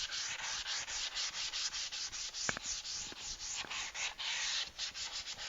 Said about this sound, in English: So I'm just going to take this and I'm going to lightly sand.